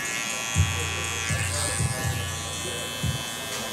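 An electric razor buzzes close by at a barber's chair as it trims a man's hair, a steady hum rising in short bursts as it passes over, with someone talking throughout.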